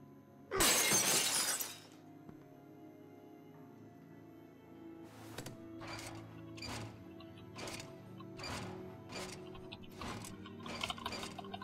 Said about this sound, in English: Then I heard the glass breaking.